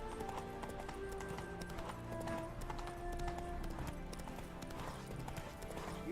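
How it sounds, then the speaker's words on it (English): Horse hooves clip-clopping steadily at a run in the video game Witcher 3, with faint whinnies under a dense game soundscape at low overall level. "Horse."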